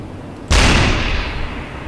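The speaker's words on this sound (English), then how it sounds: "Big explosion too." A torpedo hit explodes in the submarine game UBoat with the Expanded mod, a sudden loud boom at once that rolls into a long, fading rumble.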